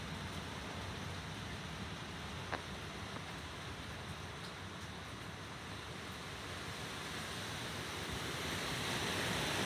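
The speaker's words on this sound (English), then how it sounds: "Okay guys, so we're getting really strong winds right now" Strong gusts of wind from a storm roar as broadband rushing noise throughout, swelling slightly toward the end, with no talking.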